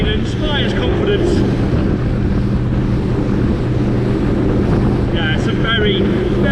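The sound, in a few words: Saxdor 200 Sport motorboat engine and hull running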